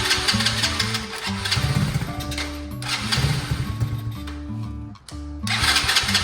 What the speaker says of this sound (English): Get the gas line hooked back up and start it up.